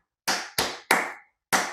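Four sharp hand claps ring out alone in an even rhythm, three in quick succession and a fourth after a short pause, close and clear, as a rhythm play-along for a music lesson.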